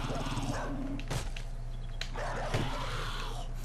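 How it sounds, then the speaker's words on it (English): A dog barks in the survival video game 7 Days to Die, a few short barks at moderate distance under steady game ambience and background noise. "Where's the dog? I hear the dog."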